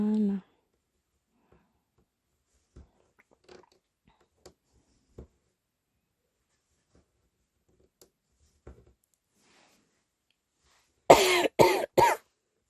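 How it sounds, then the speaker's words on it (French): A woman coughs three times in quick succession near the end, close and sharp, after a long quiet stretch with faint clicks and a brief voice at the start. "vous allez m'entendre tousser"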